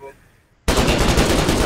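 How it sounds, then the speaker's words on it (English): After a brief quiet moment, a machine gun in the war game Foxhole opens up in a loud, rapid, continuous burst of close gunfire that runs to the end. "Just machine gun."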